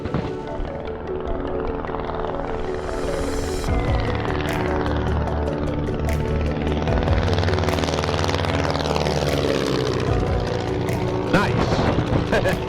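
A German WWII trainer aircraft's propeller engine drones steadily and loudly on the runway as throttle is adjusted, a continuous dense roar with shifting pitch throughout.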